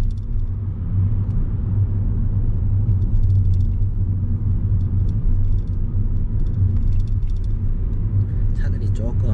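A car's steady low road rumble and engine drone on a city street during a driving lesson, constant and close, with a person talking over it.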